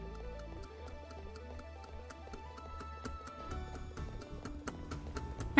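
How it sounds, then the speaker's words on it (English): Repeated mouse clicking while playing the game Dream Daddy, a steady string of small, even ticks under soft game music with rising tones, faint and close. "Can you hear this obnoxious clicking?"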